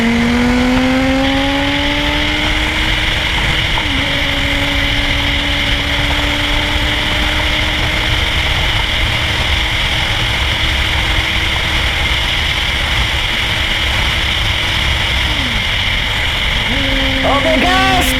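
A Honda CBR600RR superbike converted to a supermoto runs on the road, its engine holding a steady drone with shifts in pitch as it changes speed, under constant loud wind rush.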